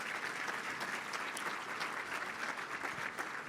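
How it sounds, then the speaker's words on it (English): An audience at a charity breakfast gives a round of applause, dense continuous clapping that stays even and full from start to finish. "Let's give her a round of applause."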